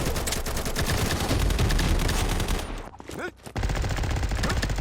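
Rapid, dense minigun fire in the shooter game Combat Master rattles loud and continuous for a few seconds, breaks off briefly, then resumes.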